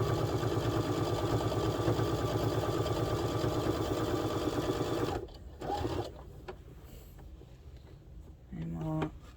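A sewing machine stitching a slip-through neck scarf hums steadily and loudly for several seconds, then stops, followed by quieter handling knocks and light fabric movement.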